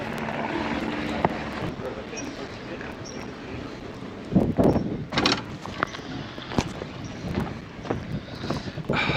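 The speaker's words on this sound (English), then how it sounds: "Ooh, airplane." Airplane passing near a wobbly seaplane dock on the Vancouver waterfront, a broad rushing engine roar swelling midway amid wind buffeting on the microphone, loud and close.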